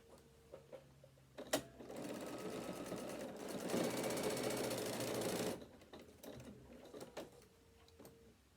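Sewing machine stitching darts on a bag lining, running in a steady mechanical whir for several seconds with short start-stop bursts and faint handling around it.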